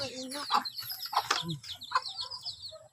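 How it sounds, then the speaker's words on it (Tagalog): Chickens cluck and squawk in short bursts nearby, with a few people talking faintly in the background. "Manok-manok."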